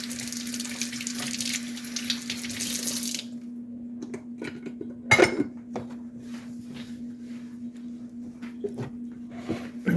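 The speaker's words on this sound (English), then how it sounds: "Let me rinse my hands off." Tap water runs over hands for about three seconds in a close, hissing rush, then stops, leaving a steady low hum with scattered small clicks and knocks.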